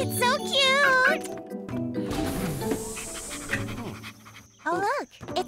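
Quick, rhythmic panting from a small dog, mixed with wavering high-pitched vocal sounds and a light jingle at moderate volume.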